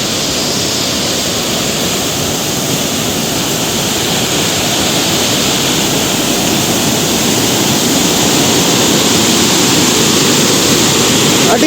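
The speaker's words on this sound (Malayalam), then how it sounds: "മനോഹരമായ വെള്ളച്ചാട്ടം" A roadside waterfall in the Swiss Alps roars with a loud, dense, unbroken rush of falling water that stays steady and close throughout, with no voices.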